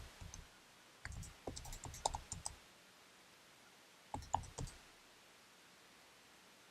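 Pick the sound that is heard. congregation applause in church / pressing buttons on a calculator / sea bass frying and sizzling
pressing buttons on a calculator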